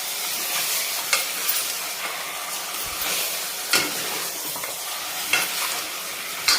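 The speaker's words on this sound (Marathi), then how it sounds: "मुरायला ठेवलेलं आपण हे मटण टाकायचं आहे। आणि छान असं मिक्स करून घ्यायचं याला, एकदम गॅस फुल करू।" Marinated mutton sizzles and fries in a hot pan on a high flame while a spoon stirs it, giving a steady hiss broken by sharp scraping clinks, close and loud.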